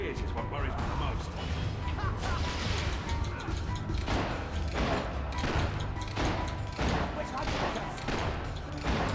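Rapid bursts of gunfire in a video game crackle close and loud in repeated volleys over a busy background of combat noise.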